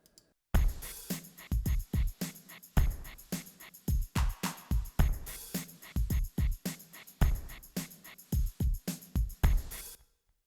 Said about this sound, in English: now I'm gonna show you how the tambourine sounds in the drum rhythm